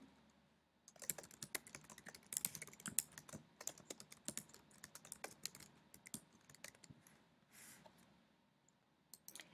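Rapid typing on a computer keyboard as a channel name is entered, a close, steady patter of key clicks running for most of the stretch with brief pauses, no talking.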